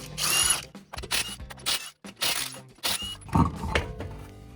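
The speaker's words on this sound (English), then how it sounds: "I'm gonna use my Ryobi Impact." A Ryobi impact wrench rattles in several short hammering bursts, spinning off the lug nuts from a Honda Odyssey wheel, with brief pauses and clunks between each burst.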